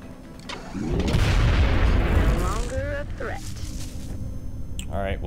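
Gunfire and heavy booms in the video game XCOM Enemy Unknown, a loud rumbling blast swelling early then trailing into tonal game effects, with a voice speaking over it.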